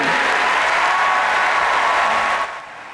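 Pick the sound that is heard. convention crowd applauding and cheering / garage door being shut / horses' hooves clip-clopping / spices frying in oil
convention crowd applauding and cheering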